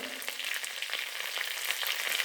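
Beans and chopped vegetables sizzle in hot oil for veg fried rice with spring onion, a steady, close crackling fry with no talking.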